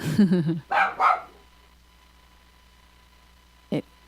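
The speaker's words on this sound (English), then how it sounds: "My dog is barking." A dog barks a few times up close in quick succession, followed by a long quiet stretch and one more brief yelp near the end.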